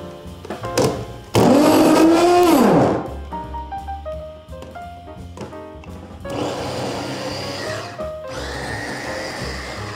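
A food processor whirs in loud bursts as it chops vegetables for a dressing, motor pitch rising and falling between pulses, with quieter mechanical running afterward.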